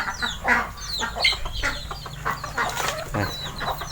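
Chickens cluck and chatter on a rural farm in Laos, a busy run of short overlapping clucks and squawks from several birds nearby, with no clear talk over them.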